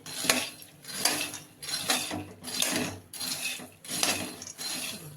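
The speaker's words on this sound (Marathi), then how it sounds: "हे शेंगदाणे आपण आता भाजून घेणार आहोत चांगले भाजायचे शेंगदाणे" Peanuts being dry-roasted in a kadhai over a gas flame, stirred in about six rhythmic sweeps, each a rattling scrape of nuts and spatula against the metal pan, close and clear with no talking.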